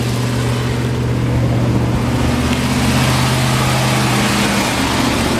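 A 1992 Ford F150 with a 5.8L V8, its gas pedal propped to hold about 2,500 RPM during a restricted exhaust check, gives a steady, loud, continuous engine drone with a constant low hum and no voices.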